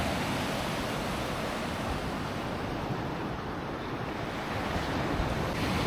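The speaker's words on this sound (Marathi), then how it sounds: "हा तो समुद्रकिनारा, सकाळचं वातावरण बघा" Sea waves roll onto a beach at Malvan on a morning shore, a steady, loud wash of surf with wind noise throughout and no distinct breaks or voices.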